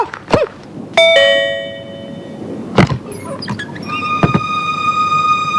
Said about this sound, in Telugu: ఎవరో బెల్ కొడుతున్నారు చూడమ్మా